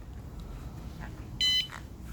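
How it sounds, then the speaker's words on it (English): A pocket bike's aftermarket alarm system gives a single short electronic beep as it engages, a clear tone standing out against quiet background noise. "See, and then it beeps once, and that means it's engaged."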